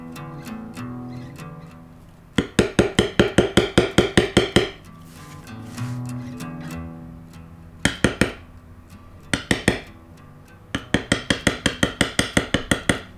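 A metal beveler struck with a mallet on tooled leather gives bursts of rapid, sharp, close taps in quick even runs, separated by short pauses, with a few single knocks between the runs.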